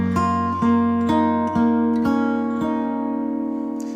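A slow fingerpicked bar on a steel-string acoustic guitar from a tune, about seven clear plucked notes ringing into one another at a steady, unhurried pace, close and alone, decaying at the end.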